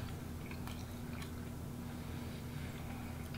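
Someone biting and chewing a crunchy, finger-shaped hot dog, with soft wet squishes and occasional crisp crunches close up over a steady low background hum.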